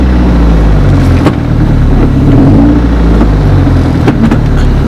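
A 2020 Chevrolet Corvette C8 engine drones loudly and continuously from inside the car while driving around the block, a low rumbling cabin sound with slight rises in revs.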